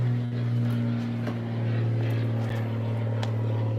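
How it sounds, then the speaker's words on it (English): A low-flying propeller plane passes directly overhead, its steady droning engine hum loud and close throughout with no talk. "Plane's coming in very low."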